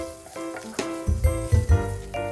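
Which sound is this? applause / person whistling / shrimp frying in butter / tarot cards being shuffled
shrimp frying in butter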